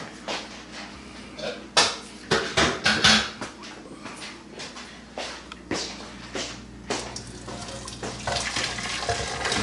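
Water and a chopped pepper, garlic and onion mix are poured into a Ninja blender jar, giving splashing, gurgling bursts with clattering and knocks, loud and close, without speech.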